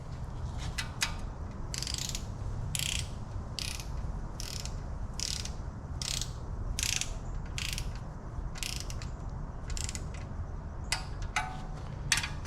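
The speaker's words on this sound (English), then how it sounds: "We'll put the last 2 bolts on. Crank them down." A ratchet cranking down engine bolts on a 5.7-liter LS V8 being built for a 2006 Chevy Tahoe, repeated quick clicking bursts in a steady rhythm over a low shop hum, close and clear.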